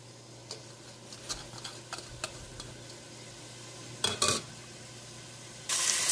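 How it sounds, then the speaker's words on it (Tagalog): Onions sautéing in extra virgin olive oil in a pot: a soft sizzle underlies scattered clicks and scrapes of stirring, with a few louder knocks against the pot and a burst of hissing at the end. "now we're going to saute our ingredients. We're going to start with our onions"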